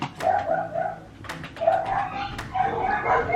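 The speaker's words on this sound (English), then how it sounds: "You're gonna hear my dogs barking like crazy because they don't like neighbors or anybody that walks past our house" Dogs at home barking and whimpering at neighbors passing the house, several sharp yaps and whiny calls in bursts, fairly close, with no talk over them.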